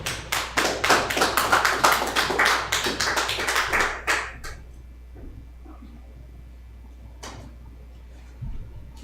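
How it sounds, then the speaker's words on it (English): Clapping from a gathered congregation, several seconds of dense, fairly close hand claps that stop abruptly, followed by quiet room tone and a couple of stray taps. "Clap it up for the Lord."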